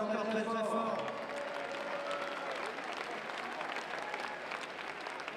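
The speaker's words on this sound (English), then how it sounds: "bravo Simon, on applaudit encore très fort." A large crowd applauds loudly and steadily after the final run of an individual sheepdog trial finals event in Orléans, with sustained clapping throughout and faint voices mixed in.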